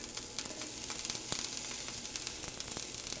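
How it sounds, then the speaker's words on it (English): Water sizzling on a hot pan before onions go in for a cheesesteak, a steady, faint crackling hiss with small pops scattered throughout, no voices over it. "the water just starts to sizzle when I put a drop in"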